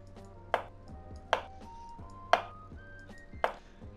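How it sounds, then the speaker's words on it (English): Knife chopping potatoes into thick julienne fries in the Cooking Simulator video game, four crisp, evenly spaced thwacks close up, with a quiet room tone between strikes. "Chopping them up."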